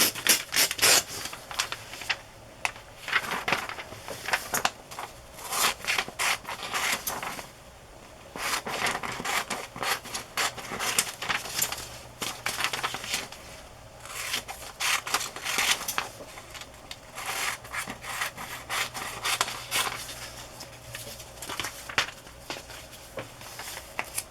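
Scissors snip through the pages of a vintage magazine to cut out an image, with soft irregular bursts of cutting and paper rustle that pause now and then, fairly quiet and close.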